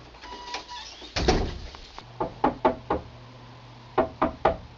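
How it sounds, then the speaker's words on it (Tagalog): Knocking on a door comes in two quick clusters of sharp raps, three or so each, preceded by a brief rustle and thump, moderately near with a faint hum beneath. "Jamie, andyan ka ba? Buksan mo tong pinto"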